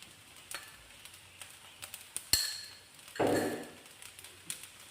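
Taiwanese-style fried rice with spring onions being stir-fried, scattered clicks and scrapes of a spatula against the pan and a brief louder sizzle burst, fairly faint overall.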